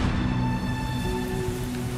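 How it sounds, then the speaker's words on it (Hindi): Heavy torrential downpour pours steadily in a dense, continuous wash of rain, loud and close, with sustained tonal music-like lines running underneath and no voices. "एक दिन बहुत तेज बारिश होती है।"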